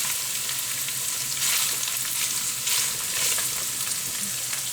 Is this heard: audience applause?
no